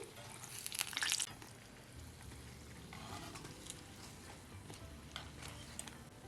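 Layered khaja pastries crackle in hot oil and are lifted out with a slotted spoon; a soft steady sizzle runs throughout, with a louder burst of scraping and clinking near the start and small taps later.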